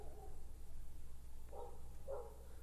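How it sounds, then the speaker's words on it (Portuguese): A dog barks outdoors somewhere off to one side, two short muffled barks sounding at a distance beneath a steady low hum, with no voices present. "Tem um cachorro latindo lá fora."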